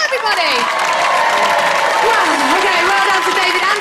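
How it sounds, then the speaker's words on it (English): Big applause and cheering from a television studio audience at a Gladiators quarter-final, steady and loud throughout, with tonal music or voices riding over the crowd noise. "Big, massive round of applause for Paul, everybody!"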